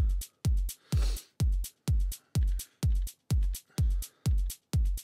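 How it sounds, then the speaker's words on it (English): Elektron Digitakt techno loop, an open hi-hat laid over a steady four-on-the-floor kick, a loud, evenly spaced thump pulse about two per second with brighter high hiss between the beats. "Then I'm using an open hi-hat."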